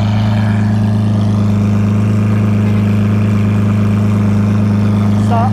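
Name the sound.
Lamborghini Aventador LP700-4 exhaust sound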